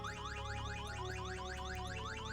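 A car alarm blares continuously in the VEIN video game, a steady loud electronic siren with rapidly repeating rising sweeps and no talking over it.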